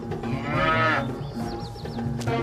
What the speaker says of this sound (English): Hey, leave that cow alone.